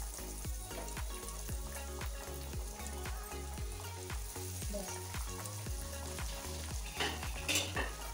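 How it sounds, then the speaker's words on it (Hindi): Chicken bread parcels fry in hot oil in a kadai, giving a soft, continuous crackling sizzle with faint rhythmic bubbling and a few louder spatters near the end. "अब मैं इसे फ्राई करने जा रही हूँ तो मैंने कढ़ाई चढ़ा के तेल अच्छे से हीट कर लिया है"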